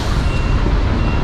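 A tow truck's reversing beeper sounds over the loud, steady rumble of its engine on a city street, close and continuous with no voices.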